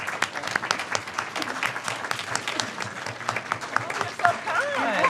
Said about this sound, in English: we, once again, applaud her and congratulate her